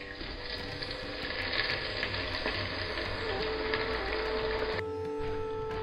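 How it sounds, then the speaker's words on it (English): Spicy mini onion bhajis deep fry in hot oil in a pan or deep fat fryer, a dense, continuous crackling sizzle heard close and steady before it drops away near the end. "put them into either your pan or your deep fat fryer that you're going to use"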